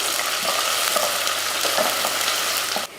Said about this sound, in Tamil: ஒரு 100 கிராம் அளவுக்கு சின்ன வெங்காயம் நல்லா பொன்னிறமாக வதக்கிக்கலாம்.